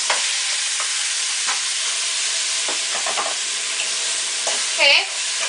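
Goat meat sizzles loudly and steadily in a hot pot, a constant frying hiss with occasional stirring scrapes and a brief burst of spitting near the end.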